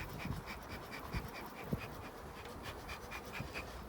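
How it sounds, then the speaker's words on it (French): Agitated Buckfast honeybees buzzing at an open hive, a dense continuous drone with sharper whines as individual bees pass close, plus a few soft thuds. "Les abeilles s'énervent."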